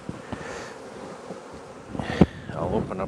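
Honey bees swarm around an open hive while a frame of brood is lifted out, giving a steady close buzz with passing louder drones and light handling knocks, and no clear speech.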